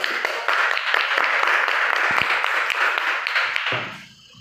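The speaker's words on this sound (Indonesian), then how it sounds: "Oke, beri aplaus dulu untuk" A group of participants at a classroom session applauds together, dense and fairly close, the clapping holding steady for several seconds before thinning out and fading at the end.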